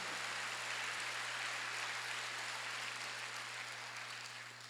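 Sustained applause from a church congregation at a Sunday worship service, dense and even clapping throughout with a steady low hum underneath, fading slightly at the end.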